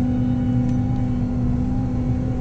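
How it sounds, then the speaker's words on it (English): A JCB Fastrac tractor engine runs close by with a steady, loud mid-pitched drone and a constant tonal hum, holding an even level throughout the short stretch. "We'll give her some revs and we'll see what happens."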